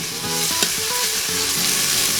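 Finely chopped ingredients sizzle and fry in an Instant Pot on the sauté setting, a steady close crackle with a spoon stirring and scraping through it.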